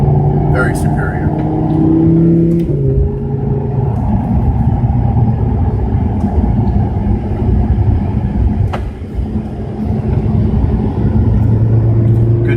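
A car driven on a track at Monticello, heard as a continuous engine rumble with shifting gear tones, moderately loud and steady throughout, with a brief dip near the end.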